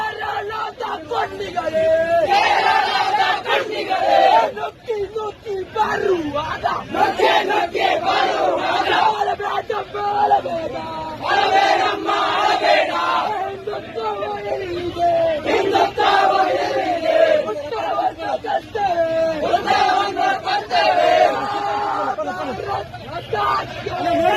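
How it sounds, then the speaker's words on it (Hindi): A large crowd shouts slogans in loud, rhythmic, repeated bursts, with voices merging into a continuous roar. "देखिए इनके नारों को सुनिए।"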